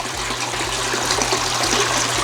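Water splashing in a pond as a large albino turtle moves through it, a steady close churning slosh with low rhythmic surges and no talking.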